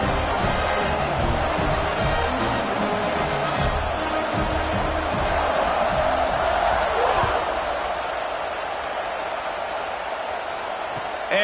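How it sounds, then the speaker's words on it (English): A stadium crowd at a Washington at USC college football game buzzes after a touchdown, a dense, continuous roar of many voices that holds steady throughout, with no clear single speaker. "this crowd is buzzing after that last score"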